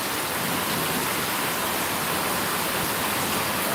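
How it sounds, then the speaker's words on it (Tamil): Heavy rain pours outside during a thunderstorm in a village, a dense, steady hiss of water that is close and continuous throughout, with no voices. "தெரியுதுங்களா சவுண்ட் உங்களுக்கு கேட்கும் மழை சவுண்ட் அப்படி கேட்குது"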